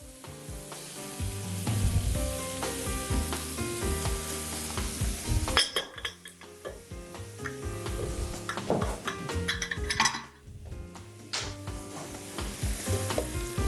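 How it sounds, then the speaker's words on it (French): Fresh tomato hits a hot pan in an Algerian dish, giving a steady sizzle with stirring scrapes and a few utensil clinks, fairly close and continuous with no talk over it. "Là, on va mettre notre tomate fraîche."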